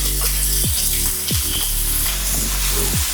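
Medium-sized large onions sauté in a pan for Malabar chicken curry, a loud steady sizzle with several sweeping scrapes of a spatula stirring them.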